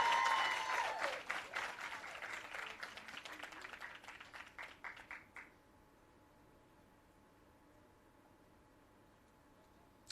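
An audience applauds at an employee service awards ceremony, steady clapping from a crowd that thins into scattered claps and fades out after about five seconds, leaving quiet room tone.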